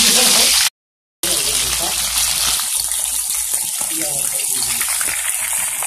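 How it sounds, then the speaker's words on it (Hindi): Cauliflower pieces frying in hot oil for spicy aloo gobhi, a steady loud broadband sizzle and hiss that runs almost throughout after a brief cut, with a voice talking over it. "अब इसमें हम डालेंगे गोभी और इसके हल्का हल्का फ्राई करेंगे।"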